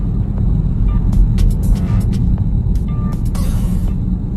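A car rolls slowly along a residential street past houses, its engine giving a low, steady rumble close to the microphone, with faint passing hiss from outside.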